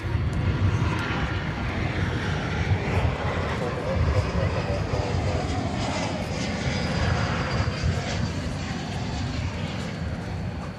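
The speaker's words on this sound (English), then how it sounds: "We're about to see Flight 757 arriving from Seattle, an Airbus" An Airbus A321 airliner arriving at DFW Airport on a Saturday night, its engines a steady, broad roar held at the same loudness for the whole stretch, with talk running over it.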